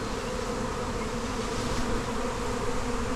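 Honeybees swarming in large numbers around a hive, with a dense, continuous droning buzz from many insects at once, close and steady with no talking.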